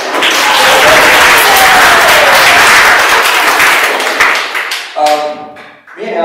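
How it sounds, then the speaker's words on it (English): A room full of school staff breaks into loud, dense applause for a Spanish teacher, a continuous wash of clapping that thins and fades toward the end, with a few sharp knocks and a brief ringing tone at the close. "Round of applause."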